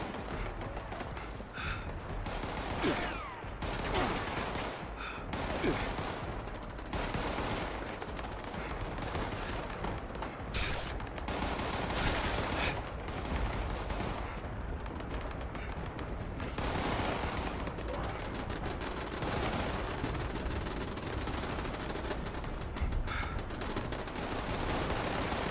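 Automated turrets in Fallout 76 fire repeated bursts of gunfire at a rat, the shots coming in rapid, uneven clusters over a dense, continuous game soundscape without speech.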